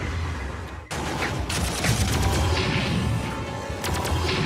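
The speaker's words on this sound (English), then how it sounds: "that's a different zap gun. That's a cannon." Cannon fire in the Warhammer 40k game Armageddon, loud repeated blasts and crackling impacts in a dense battle barrage, starting with a sharp cut and continuing steadily.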